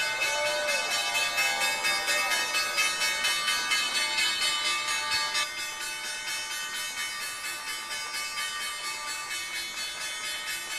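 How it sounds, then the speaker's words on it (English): The New York Stock Exchange opening bell rings in a rapid, continuous clatter of metallic strokes for about eleven seconds, loud and close, easing slightly in volume partway through. "You just heard data company Snowflake ring the opening bell."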